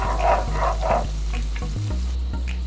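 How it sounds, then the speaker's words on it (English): Ginger and garlic sauté lightly in oil, a continuous sizzle with a few scraping stirs over a steady low hum, with no talk. "So we're just gonna saute that lightly."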